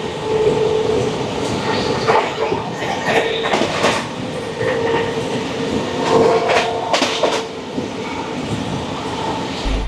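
The 11448 Shaktipunj Express from Howrah runs on the rails toward Asansol Junction, a loud continuous rumble heard from inside the coach with rattling, clacking and occasional squealing wheel noise.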